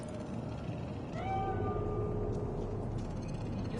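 A cat meows once in Cyberpunk 2077, a drawn-out, slightly wavering mew over a constant low hum of city ambience, fairly close and moderately loud.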